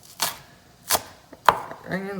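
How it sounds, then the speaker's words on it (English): Knife chopping green onions on a cutting board in a home kitchen while potato soup simmers, three sharp separate chops, close and clear, followed by a short vocal sound at the end. "Cut up some green onions."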